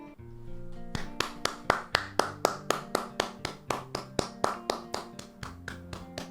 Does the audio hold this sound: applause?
yes